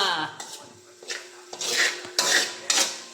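Plates and dishes clinking and scraping in a kitchen while liver cooks, several sharp ceramic knocks and rubbing scrapes spaced irregularly, close and fairly loud, with faint voices in the background.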